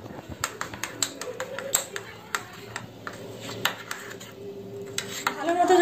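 Milk powder being stirred into milk in a pot, with quick clinking taps of a spoon against the metal rim and light scraping strokes, close and fairly crisp, interrupted by brief pauses.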